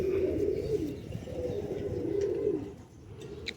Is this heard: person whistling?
no